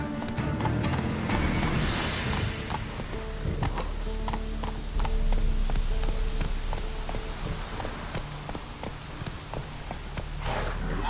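Roach, a horse in The Witcher 3, gallops with steady, rhythmic hoofbeats that continue throughout, close and fairly loud over a constant background wash.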